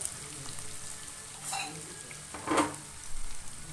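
Vegetables for upma cooking in a pan, a steady low sizzle with a couple of brief scraping stirs, close and fairly quiet, no voices.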